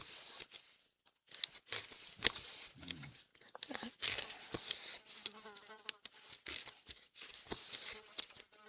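A fly buzzes around in short, uneven bursts that come and go, close and fairly faint, with soft rustling and scattered background noise between the passes.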